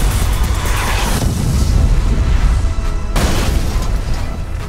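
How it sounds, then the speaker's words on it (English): A crash breaker explosion in the video game Burnout Revenge, where a wrecked car is blown up: a dense, sustained roar of blast and debris noise with a brief dip partway through, loud and continuous without talk. "When it's full, explode your car by pumping up the crash breaker."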